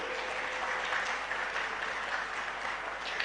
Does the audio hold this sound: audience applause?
yes